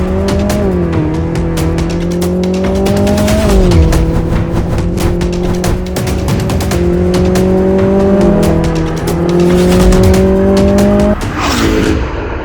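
A Ferrari SF90 hybrid supercar driving hard, its loud engine note climbing through rising pitches with repeated shifts and drops, close and continuous, with tire noise mixed in.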